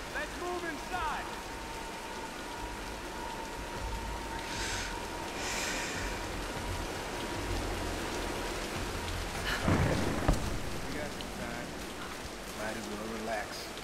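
Steady rain from a storm in the Tomb Raider video game, a constant hiss of falling rain with a brief louder burst near ten seconds and faint voices now and then.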